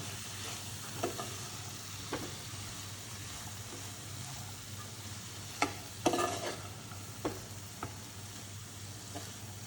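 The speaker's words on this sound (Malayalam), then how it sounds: "ഇപ്പം എല്ലാം കൂടി നല്ലോണം ഒന്ന് മിക്സ് ചെയ്യാം." Sliced onions and spice powders are stirred in a frying pan, a soft continuous sizzle under scattered scrapes and clinks of a spoon against the pan, with one louder burst of stirring midway.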